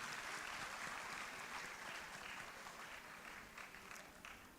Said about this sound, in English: let's give a big round of applause to Ms. Prakriti Aryal